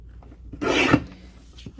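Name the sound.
paper kite print being trimmed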